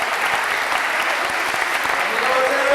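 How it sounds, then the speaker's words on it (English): Dense audience applause at a motivational speaking event, steady and loud throughout, with a slight swell toward the end and scattered voices mixed into the clapping. "Can we give a round of applause?"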